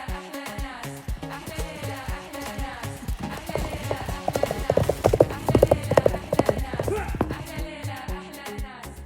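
Horse hooves clip-clop on a hard surface in a steady, close rhythm that grows louder midway, with a faint voice now and then.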